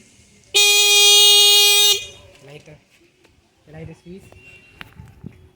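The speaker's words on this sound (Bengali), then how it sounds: "হর্নটা কেমন বাজায়, বাজা বাজা, দেখছেন কিরকম আওয়াজ?" A battery-powered bicycle horn gives one loud, steady electronic blast lasting over a second, then cuts off, leaving faint footsteps, handling noises and soft movement nearby.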